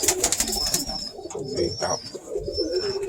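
A Birmingham Roller pigeon hen coos close by in low, rolling throaty phrases that repeat throughout, mixed with a thin high whistle and light rustling, with no talking.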